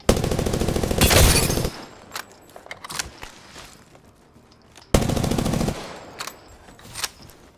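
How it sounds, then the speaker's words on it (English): Rapid automatic gunfire from Apex Legends, with smart bullets fired in a match: two loud sustained bursts with a quieter stretch of scattered game clicks and footsteps between them. "Smart bullets struck true."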